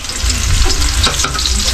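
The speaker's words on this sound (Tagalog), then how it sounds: "Nagigisa na tayo." Food sautéing in a hot pan, a steady close sizzle and crackle with a few clinks of stirring, continuous and loud for under two seconds with no talk.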